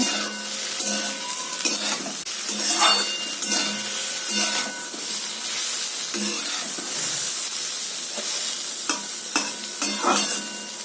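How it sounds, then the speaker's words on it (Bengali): Four garlic cloves fry and sizzle in hot oil in a pan, stirred repeatedly with scraping utensil strokes, a steady close sizzle with rhythmic bursts of stirring and no talk. "এখানে চারটে রসুনের কোয়া দিলাম রসুনটা যতক্ষণ না ফ্রাই হচ্ছে ততক্ষণ এভাবে ফ্রাই করে নিতে হবে"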